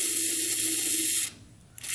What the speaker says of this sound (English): We're going to spray a little WD-40 down the